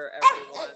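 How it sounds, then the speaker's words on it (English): A pet dog gives a quick yip or bark indoors, close and sharp, mixed with a person speaking at the same moment. "And I'm sorry about my dog,"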